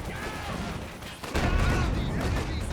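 Grenades trading in a Company of Heroes 2 1v1 match, a muffled burst of blasts that turns into a louder, sustained crackle of explosions and gunfire partway through, with game noise behind it.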